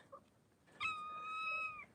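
A single drawn-out cat meow, clear and fairly close, rising then holding steady for about a second before trailing off, with quiet background otherwise.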